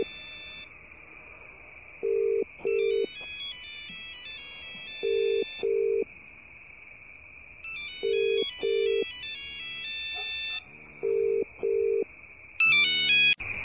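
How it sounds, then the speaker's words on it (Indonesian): A phone ringtone in a horror video game plays in repeated two-note bursts at a steady rhythm, over a constant electronic tone and game ambience. "Gue bisa denger ringtone-nya."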